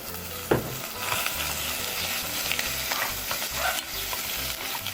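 Beef fries in sesame oil in a pot, a bright crackling sizzle broken by a few stirring scrapes and bursts, close and continuous with no talking.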